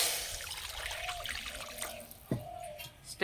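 Water is poured into a wok (kadai) with a faint, gentle trickle and a small splash partway through, quiet and close.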